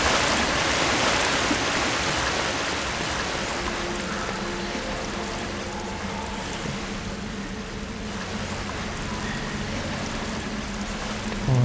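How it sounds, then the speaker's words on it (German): Loud, steady rushing water in the game Harry Potter and the Philosopher's Stone fills the whole stretch, a dense unbroken roar like a stream or waterfall, with no voices. "Boah, ist das Wasser laut."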